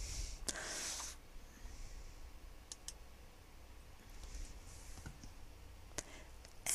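Sharp, isolated computer mouse clicks come at irregular intervals during photo-editing software work, faint and close over a quiet room hiss.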